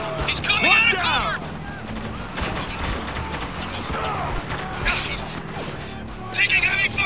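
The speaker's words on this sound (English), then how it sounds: "Taking heavy fire!" Heavy gunfire in Spec Ops: The Line crackles in dense, rapid bursts that sound close and loud, mixed with mechanical clatter and shouted voices.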